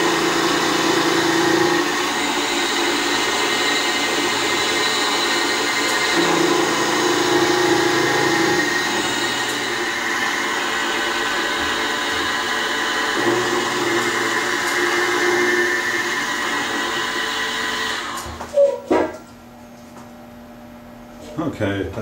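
Toolpost grinder whining steadily on a lathe while the quill plunges down, a continuous mid-loud motor drone that cuts off near the end, leaving a few clunks.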